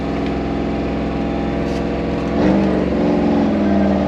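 A smoking Land Rover engine idling high at 2500 rpm, a loud steady rumbling drone with a slight surge and pitch shift partway through.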